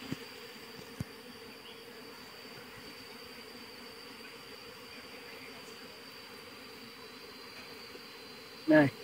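Honey bees buzz at an open beehive in a steady, dense drone that fills the whole stretch, with a few faint knocks and a brief louder sound near the end.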